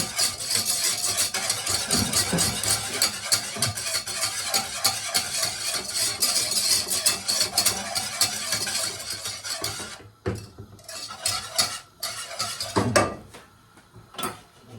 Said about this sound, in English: I'm gonna whisk. Give it a good whisk, like so.